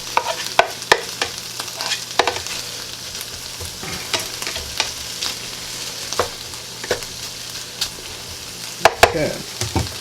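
Spam frying and being stirred in a pan for breakfast fajitas, a steady close sizzle broken by repeated sharp scrapes and clacks of the utensil against the pan throughout.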